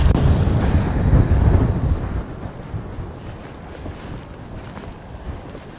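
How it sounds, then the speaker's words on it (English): A small fishing boat passing near a harbour on the Scottish Border coast, a loud engine and hull rumble mixed with wind buffeting that drops away after two seconds to a quieter, wind-blown background. "there's a little fishing boat coming around"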